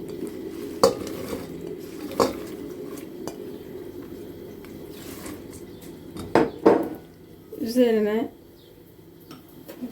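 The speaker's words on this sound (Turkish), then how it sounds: "onları şimdi hemen bir tencereme koyuyorum" Vegetables, washed, trimmed and cut into thirds, go into a cooking pot in a home kitchen, making a few clattering knocks and clinks of pot and utensils over a low background hum, with a brief voice near the end.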